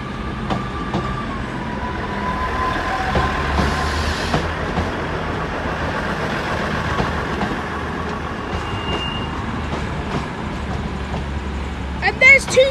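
British Rail Class 158 and Class 220 trains at Sheffield station, a continuous low rumble of idling diesel engines and rolling stock under platform ambience, a brief high whine partway through and a burst of clatter at the end, with voices talking throughout.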